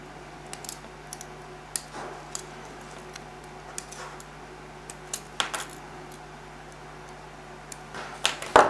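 Nippers clip Gunpla model kit parts off a plastic runner, scattered sharp little snaps and taps over a faint steady hum, with a louder cluster of clicks at the very end.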